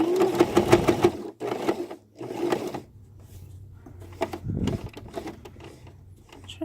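A sewing machine top stitching a cloth pad runs in several short bursts with pauses between them, its rapid needle clatter close and clear, followed by a quieter low hum near the end.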